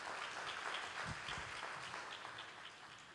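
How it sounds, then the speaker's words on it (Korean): An audience at a Chongshin University development-plan proclamation ceremony applauds steadily, a dense, even wash of many hands clapping that holds throughout and tapers slightly at the end. "박수로 환영해 주십시오."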